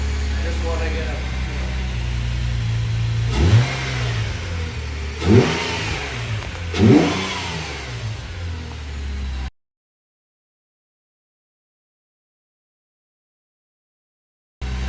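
A 2005 Nissan Maxima fitted with an HPS short ram intake revs sharply three times over a steady idle, each rise swelling and falling back. A voice is briefly heard, then the sound cuts to silence before returning at the very end.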